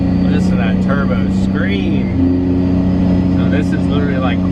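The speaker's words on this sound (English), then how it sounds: "Listen to that turbo" A Cummins diesel truck drives at light throttle, a loud steady engine drone with a high turbo whine rising and falling over it, and a voice talking over the noise.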